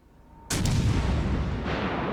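A single loud warship gun salvo booms in World of Warships: Legends, a sharp blast followed by a long rumbling decay, with a faint tone beforehand.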